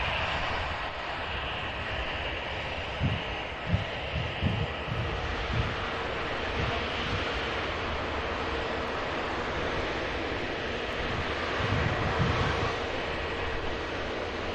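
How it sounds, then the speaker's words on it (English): A Virgin Atlantic A350 taxis at Manchester Airport, heard as a steady, broad jet roar with wind-like rushing that stays constant throughout at moderate distance, with no talking. "the Virgin Atlantic A350's taxiing right past here at the RVP"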